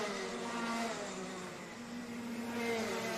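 Racing karts, Tillotson T4 class, howl flat out down the start-finish straight at a Latvian karting championship, a sustained high-pitched engine whine holding steady with slight pitch wavering, loud and continuous.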